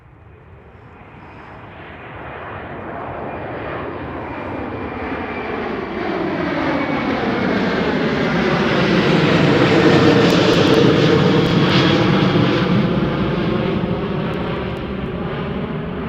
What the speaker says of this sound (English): KLM A330.